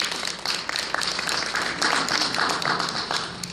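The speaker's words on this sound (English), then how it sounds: "Let's give Chris a round of applause." A room full of people claps for an assistant at a council member's district address, a dense burst of applause that holds steady throughout with no one speaking over it.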